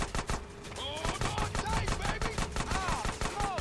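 Rapid gunfire in GTA San Andreas Definitive Edition, aimed at a train's tire, sounds as a dense run of sharp repeated shots, loud and continuous, with game noise and a voice mixed in.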